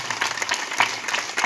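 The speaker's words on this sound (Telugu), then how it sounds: "దేవునికి చప్పట్లు కొట్టాలి." A church congregation claps for God in a quick, ragged burst of many hands, fairly loud and close, with a faint voice or two mixed into the applause.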